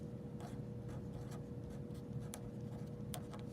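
A pen writing a single word on paper, a steady faint scratching with a few brief ticks over low background hum, no voices.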